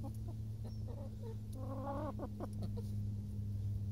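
Pet hen at an allotment clucking close by in short rhythmic bursts, with a quicker run of clucks in the middle over a steady low background hum.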